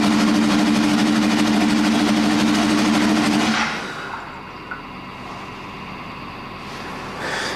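A Ducati 998-engined land speed motorcycle running loud and close, with a strong steady engine roar for several seconds that then drops to a lower, quieter idle with small blips of throttle.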